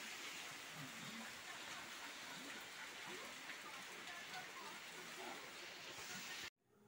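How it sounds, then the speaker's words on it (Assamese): Heavy rain pours down steadily during a bout of bad weather, a dense, even hiss of drops hitting surfaces that fills the scene until it cuts off abruptly near the end. "বৰষুণ দি আছে।"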